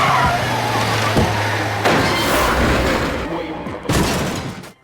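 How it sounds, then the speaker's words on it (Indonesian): A car bomb in a Prison Break scene, with the car pushed off a bridge: loud bursts and crashing booms with debris-like clatter, several hits in quick succession, fading at the end. "Di titik inilah bom akan meledak."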